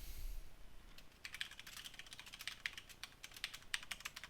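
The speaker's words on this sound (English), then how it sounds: "You're typing up code." Fingers tap out code on a computer keyboard in a steady, fairly close stream of light clicks, with brief pauses between bursts and no talking.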